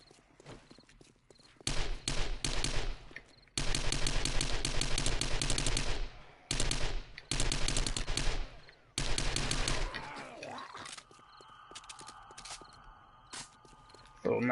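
Rapid bursts of 9mm SMG fire in 7 Days to Die come as several long, loud volleys separated by short pauses, followed by quieter in-game rustling and clatter.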